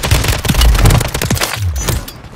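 Warzone 3 gunfire: a close, loud stream of rapid automatic shots and booming reports crowding the short stretch before tailing off.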